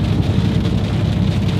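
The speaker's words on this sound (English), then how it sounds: "Well, I didn't expect to run into rain today." Rain drums steadily on a moving vehicle on an Arizona highway near Flagstaff, a loud, even wash of noise blended with road rumble and no talking.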